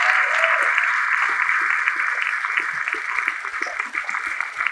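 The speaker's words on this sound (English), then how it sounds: "Can everyone please give another round of applause for Radha?" Audience applauding after a dance performance, a continuous patter of clapping that is steady at first and gradually thins toward the end.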